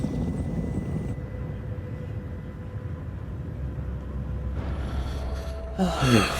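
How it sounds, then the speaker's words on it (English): A helicopter's rotor drone thrums steadily, then a sudden rush and crashing burst near the end. "Helicopter's gonna go down, right?"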